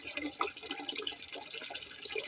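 Water trickles and splashes through a home recycling filter of gravel and carbon, a faint steady gurgling with small drips throughout.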